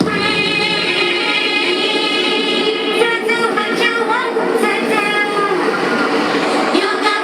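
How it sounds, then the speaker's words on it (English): A train rolls past steadily and fairly close, a continuous rumble with bright metallic ringing and clattering running throughout. "Train going by"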